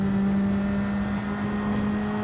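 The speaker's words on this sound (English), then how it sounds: "Over revving it down into that turn." A race car engine in the Gran Turismo 7 video game is held at high revs while downshifting into a turn, producing a steady, loud, droning whine that holds a strong constant pitch throughout with no speech over it.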